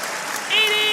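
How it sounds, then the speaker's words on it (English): Spectators at a Wimbledon ladies' singles final break into applause on a tennis court, a broad wash of clapping that swells halfway through while a commentator talks over it. "Listen to the applause."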